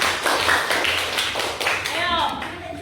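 A classroom of students claps in loose, uneven bursts of slaps, fairly close, while people talk over the clapping.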